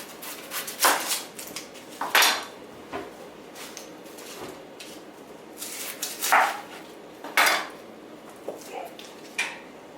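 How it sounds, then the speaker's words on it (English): Several sharp knife chops through a red onion hit a cutting board in irregular bursts, close and fairly loud, with short quiet gaps between them. "So you start by chopping your veggies. I'm going to chop my onion."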